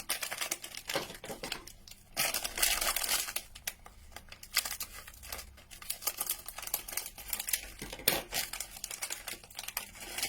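A Japanese snack package, sold in a Pikachu Pokemon face mask, is cut and torn open close up, with loud crinkling and rustling of the plastic wrapper in uneven bursts and short pauses.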